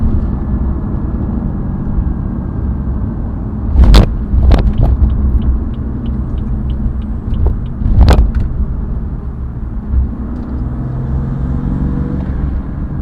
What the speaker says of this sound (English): You can hear way more induction noise.